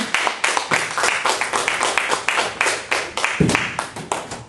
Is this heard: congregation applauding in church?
yes